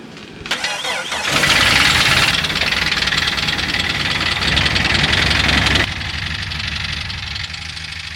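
A Jeep engine turns over and fires up, then runs loudly at a steady idle for several seconds before dropping to a lower, quieter idle near the end.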